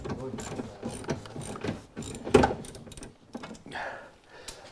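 A ratchet loosens 10 mm bolts on a salvage 2010 Impala, with quick, close clicking in short bursts and a brief voice in between.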